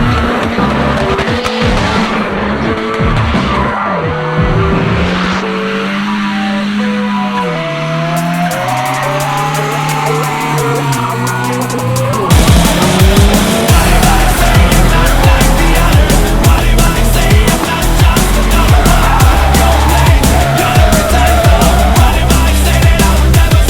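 Cars street drifting in Novosibirsk, loud continuous tire squeal and screeching engines close by, the roar growing louder and denser partway through, with no voices.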